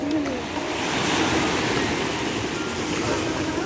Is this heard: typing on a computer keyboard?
no